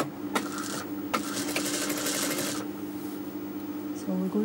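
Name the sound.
sewing machine stitching a boy's jubba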